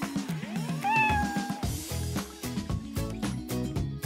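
Cat meowing close by, one clear rising-and-falling meow followed by rustling, clattering household movement and faint background music.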